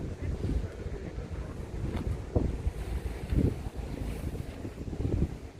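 A sailing ship passes on the water near the lock at Hythe, heard as a steady low rumble of wind and lapping waves with gusts of microphone wind buffeting throughout.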